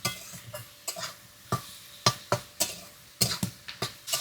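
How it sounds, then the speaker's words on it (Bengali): Sliced onions are stirred as they fry in a pan, with a low sizzle broken by about a dozen sharp, close scraping strokes of the spatula in an uneven rhythm. "হালকা এই যে নাড়াচাড়া করে পেঁয়াজটা ভাজে নিই"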